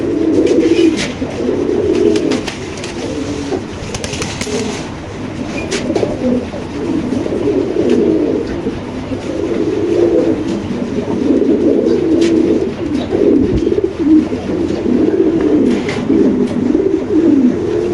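Pigeons, white Bombai and red mokkhi breeds, coo continuously in a low, throaty rhythm, several birds close by, with occasional flutters and small clicks.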